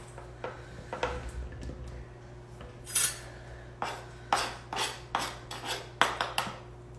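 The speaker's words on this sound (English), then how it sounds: "So you're gonna stir this together before you add anything else." Almond flour, coconut oil and cranberries being stirred in a bowl, a quiet sequence of scraping strokes and clinks of utensil against bowl, close and fairly faint, with no talking.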